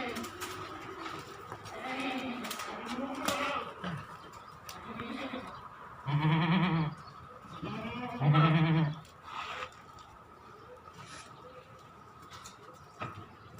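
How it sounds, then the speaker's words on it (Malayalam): A mother goat and her three young kids, kept in Medina, bleat in short, scattered calls, with two louder, nearer bleats standing out above a soft, noisy background. "ഇവിടെ 1, 2, 3, 4 ആടും പിന്നെ ഒരു ഉമ്മ, 3 കുട്ടികൾ."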